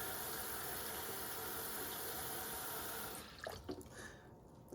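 Running tap water pours steadily over lentils being rinsed in a sink, a continuous close splashing rush that cuts off after about three seconds, leaving a few brief drips and handling sounds.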